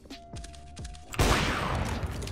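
Gunshots in a CS:GO match: a few spaced single shots, then a loud sustained burst of rapid fire, close and dominant with no talking.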